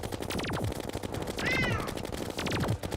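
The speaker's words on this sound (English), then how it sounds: "Kitty." A cat meows loudly and close by with a rising, drawn-out cry mid-way, heard over busy electronic game music and sound effects from Terraria played in Master Mode.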